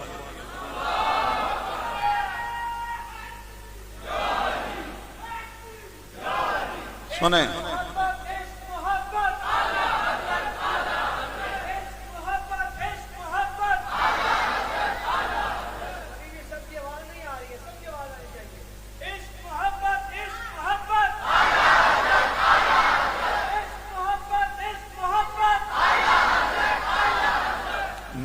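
A crowd at a Milad gathering shouts religious slogans in repeated call-and-response bursts, with a strong amplified voice leading and the massed voices answering loudly throughout.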